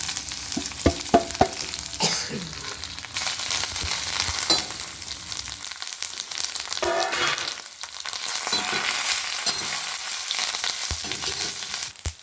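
Mustard seeds, urad dal, fenugreek and curry leaves fry and crackle in hot oil for a stem-greens palya, a steady close sizzle broken by sharp pops and a few clinks of stirring, with no talking.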